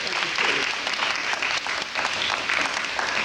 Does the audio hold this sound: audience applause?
yes